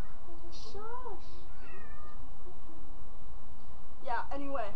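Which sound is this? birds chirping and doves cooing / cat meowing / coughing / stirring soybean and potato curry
cat meowing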